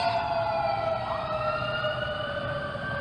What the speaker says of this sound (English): Oh dear, ambulance.